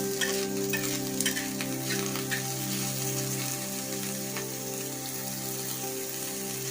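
Onions and raw coconut roasting together in a pan over a high gas flame for misal pav give a loud, steady sizzle that runs throughout, with occasional scraping stirs and no voices.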